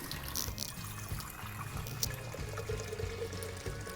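Hot tap water pours into a laboratory beaker, a soft continuous trickle and splash with a faint low hum beneath, quiet and close.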